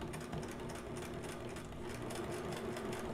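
Sewing machine reverse-stitching through leather on a DIY envelope bag, a dense, steady motor buzz with rapid needle pulses running throughout at close range, with no voices.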